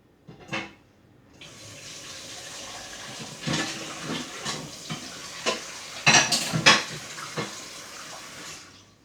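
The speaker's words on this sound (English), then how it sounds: "Gonna wash this plate." A plate is washed at a running kitchen tap, with water splashing steadily under repeated clinks and knocks of dishware and cutlery against the sink, close and clear.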